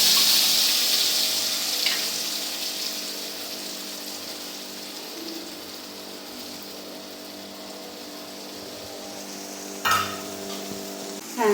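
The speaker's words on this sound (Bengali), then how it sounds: "হ্যাঁ, মশলাটা কষানো হয়ে গেছে।" Spice paste for mustard pabda fish frying in a hot wok: a steady, fairly loud broadband sizzle that fades slightly over time, with a brief scraping burst near the end and no talk.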